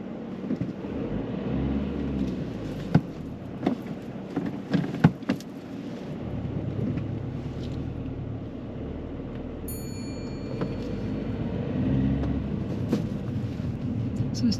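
Car pulling away during a driving test, a low engine rumble and road noise heard from inside the cabin, with a few sharp clicks and knocks early on and a brief high chime partway through.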